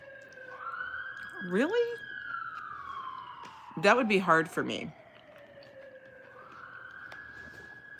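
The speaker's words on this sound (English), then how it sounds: "Can you hear that siren out there?" A police or emergency siren wails steadily along a New York City street, its sweeping tone rising and falling at moderate distance beneath conversation that breaks in and out over it.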